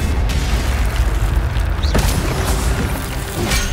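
A blast from the Incendio fire spell in Hogwarts Legacy: a loud, continuous roaring rumble with deep low-end boom and crackling texture, with no talking over it.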